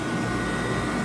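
An Ice-O-Matic ice machine runs after repair, its fans and compressor producing a steady, fairly quiet mechanical hum and airy whir with no talking.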